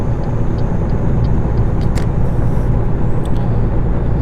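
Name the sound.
Scot A2HD truck engine accelerating, from video game American Truck Simulator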